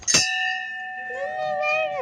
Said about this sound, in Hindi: यहाँ पे घंटी बजा दी।